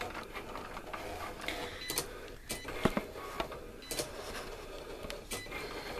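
Cricut cutting machine cutting shapes, faint whirring carriage movement with repeated ticks and clicks at an irregular rhythm, quiet and close in a calm room.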